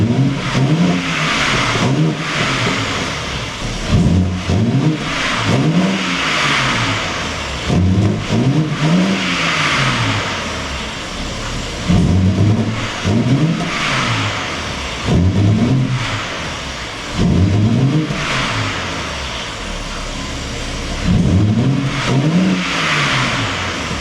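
A BMW M3 Competition, just started for the first time after assembly, revs hard in a series of about a dozen rising and falling blips over a steady idle, loud and close, with no talking.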